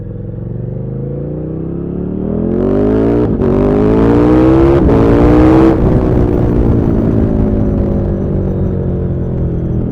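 A KTM 1290 Super Duke R motorcycle accelerates at about one-third throttle with no dB killer fitted. Its loud, close engine note climbs in pitch through two gear changes and then holds a steady drone, with no talk.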